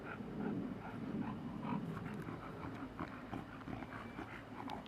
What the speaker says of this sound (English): Bit of bulldog play.